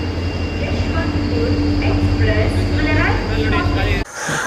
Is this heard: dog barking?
no